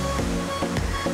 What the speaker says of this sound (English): as amazing as this waterfall is